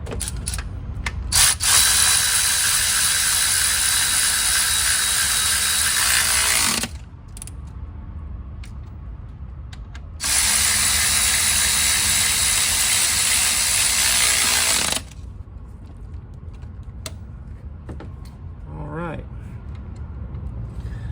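A ratchet tightens bolts on a Cadillac Escalade build in two long bursts of rapid clicking, close and fairly loud, separated by a quieter pause with low background noise and occasional talk.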